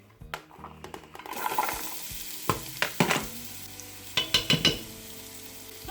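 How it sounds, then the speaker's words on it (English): Onions and garlic go into hot olive oil in a pan and start a bright sizzle. Sharp clacks and scrapes of a utensil against the pan come in bursts, and no one talks. "now I'm just heating up some olive oil so I can cook the onions and the garlic"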